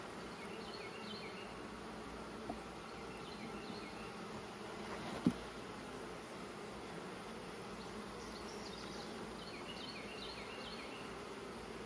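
Angry bees swarm around an open hive during a mid-August inspection. Their dense, continuous buzzing fills the whole stretch, with a couple of faint clicks.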